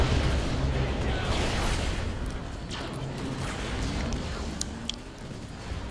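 A Mammoth tank is destroyed by Vertigo bombers in a real-time strategy video game, with rumbling explosions and pops over a busy, continuous battle din, faint metallic clinks near the end.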